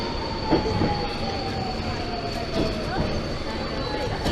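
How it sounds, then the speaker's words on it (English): Budapest Metro 2 subway train running underground, a steady rumble with a high whining tone and occasional rail clacks, close and continuous, with some voices faintly under the noise. "Now we're going down into the slightly less architecturally spectacular Metro 2."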